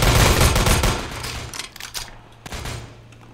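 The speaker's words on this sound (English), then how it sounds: "Bro, this is a gunfight." Rapid bursts of gunfire in a Roblox Liberty County gunfight, loud and close at first, then a few scattered shots with one sharp crack near the end, no talking.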